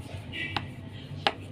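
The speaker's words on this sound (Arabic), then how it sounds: "هقطع بقى الكيكه عشان هطلع لكم منها خرطه" A knife slices through a freshly baked, still-warm cake with two sharp taps, presumably the blade hitting the pan, spaced about a second apart, close and fairly quiet over a faint background.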